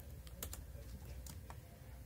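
Quiet typing on a computer keyboard, a few soft key clicks spread over two seconds against a low steady hum.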